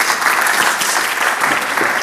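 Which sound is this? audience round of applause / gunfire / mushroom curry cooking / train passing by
audience round of applause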